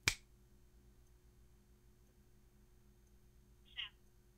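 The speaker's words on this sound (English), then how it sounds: "When you see me snap my fingers, tell me when you see me snap them" Two crisp finger snaps sound in a quiet classroom setting, one at the very start and another a few seconds later, each short and sharp against low background hum.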